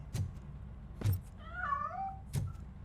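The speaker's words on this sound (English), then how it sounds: "That cat must be hiding inside." A cat meows in RoboCop: Rogue City, a short wavering cry in the middle of the clip, set between soft thumps and a low background hum.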